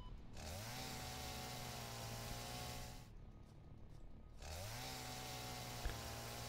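A chainsaw in the video game Satisfactory revs steadily as it cuts through leaves, a loud continuous motor drone that drops out for about a second midway, then spins back up and keeps running.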